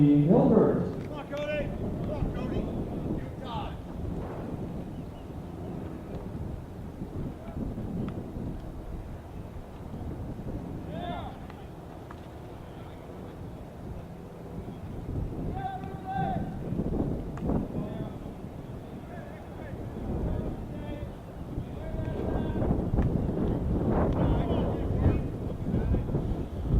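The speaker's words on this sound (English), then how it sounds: "certainly a windy day" Wind gusting across an outdoor baseball field, a broadband rumble of buffeting against the microphone that swells and eases throughout, with a play-by-play announcer talking over it.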